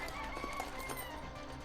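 A chicken in the video game Arc Raiders clucks faintly for a moment against a dense background of game ambience, with no talking.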